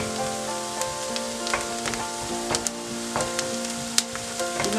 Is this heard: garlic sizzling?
yes